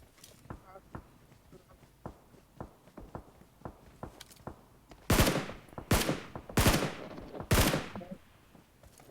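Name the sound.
gunfire from long range in PUBG Mobile video game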